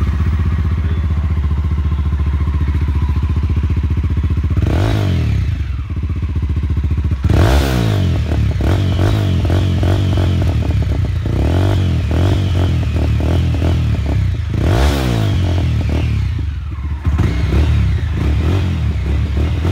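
Mahindra Mojo motorcycle exhaust without its dB killer, a loud, close, continuous engine rumble with several sharp revving surges and throttle blips over about twenty seconds.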